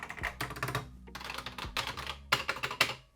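Keys clatter on a Dragon home computer keyboard in quick, uneven bursts of close, crisp clicks with brief pauses between runs, no voices present.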